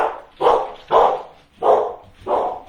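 A dog barks four times in a steady rhythm, loud and close, with no talk over it.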